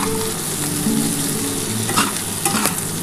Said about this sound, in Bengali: ঝাল লঙ্কার গুঁড়ো, চিনি যা যা দিয়েছি সেটা দিয়ে ভালো করে ভেজে নিয়েছি।